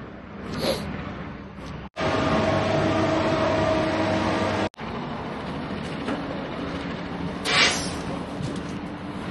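A Serbian Railways diesel passenger train passing through a Hungarian-majority border town in Serbia in December, heard as a broad steady rumble that swells and fades, with brief breaks and faint background noise.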